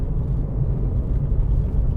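A cold VW Golf 5 engine idling just below about 1200 RPM on a trailing throttle, with a steady, loud low rumble throughout and no talking.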